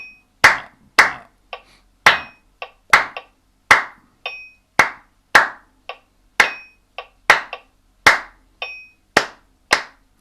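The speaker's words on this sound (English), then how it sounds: "Clap, clap, and clap, and clap, clap, clap, clap," Hands clap out a syncopated rhythm in a C major warm-up session, sharp close claps in repeating groups of long and short beats, interleaved with lighter metallic percussion ticks and no talking.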